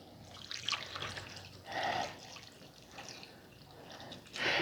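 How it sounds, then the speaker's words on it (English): Chicken broth is poured over green lima beans in a pot, making soft, faint splashing and trickling in a few short bursts. "I want to put some chicken broth"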